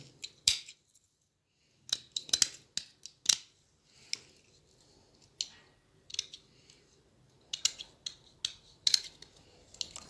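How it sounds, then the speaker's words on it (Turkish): Scissors snip lengthwise through paper strips while a paper snowflake model is being made: sharp, close cutting sounds arrive in irregular bursts and clusters of crisp snips, separated by short quiet pauses, with no talking. "Bunu böyle uzunlamasına kesiyorum."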